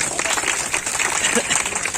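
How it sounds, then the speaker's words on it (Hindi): Loud, sustained applause from a crowd at an honoring ceremony, a dense continuous wash of clapping with voices faintly mixed in. "मैं सभी के सम्मान में एक बार जोरदार तालियां बजाना चाहती हूँ।"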